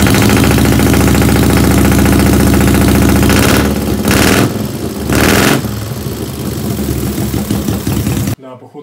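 A loud custom motorcycle exhaust idles with a rough, burbling rumble, dipping a few times before cutting off abruptly.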